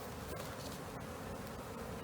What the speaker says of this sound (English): Your whole back is covered in bees.